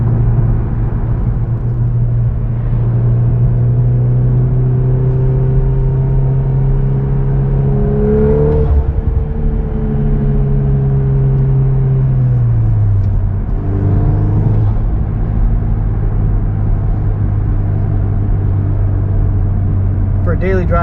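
A 2023 Volkswagen Golf R pulls hard in 5th gear, its engine drone rising in pitch, easing off briefly, then climbing again. The sound is heard from inside the cabin with road rumble underneath.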